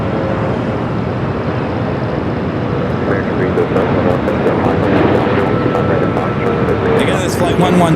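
Philippine Airlines Boeing 777-300ER arriving at Los Angeles from Manila, about 300 yards out on approach: a sustained jet roar at moderate loudness, steady and broadband, swelling slightly toward the end.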